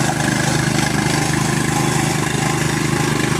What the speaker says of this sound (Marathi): आता परत एकदा ट्रॅक्टर चालू केलेले आहेत